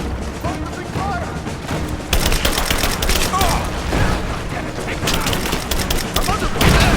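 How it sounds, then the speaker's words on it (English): Dense gunfire from a firefight in Rise of the Tomb Raider: sustained crackling bursts and booms, loud and continuous, overlapping with shouted voices throughout. "I'm under fire! He's gone! Give me covering fire!"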